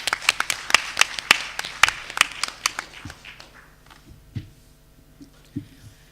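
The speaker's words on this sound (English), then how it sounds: "Round of applause, please." An audience applauds at a mig33 game pitch event, a dense burst of clapping that thins out after a few seconds into scattered, fading claps.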